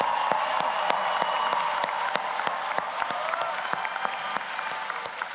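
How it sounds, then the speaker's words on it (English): A large audience claps steadily and evenly through the whole stretch at a Rutgers School of Social Work convocation, dense sustained applause with no break and no talking. "round of applause for all those MSW graduates"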